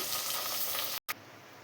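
Cucumber and tomato pieces being stirred into a frying Telugu cucumber curry: steady broadband sizzle, close and fairly loud, broken by a brief full silence near the end before the frying hiss resumes slightly thinner.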